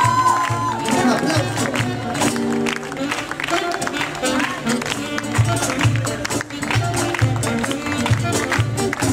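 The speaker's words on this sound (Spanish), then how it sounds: "aplauso para nuestra música, por favor" Crowd clapping and cheering mix with loud live music from a band performing Peruvian songs, the applause rising over strong bass and drums throughout about nine seconds.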